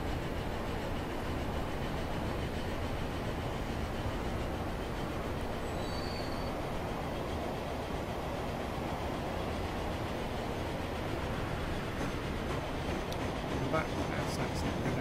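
A train rumbles steadily along the tracks in a rail transport game, a constant low rolling drone with faint squeals, under quiet talk.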